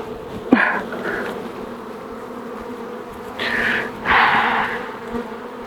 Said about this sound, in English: I'm not going to disturb this hive anymore because it's already quite agitated from me poking my nose around in it